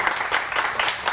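A studio audience on a morning television show claps in a short, moderate burst of rhythmic applause, heard alone without talk.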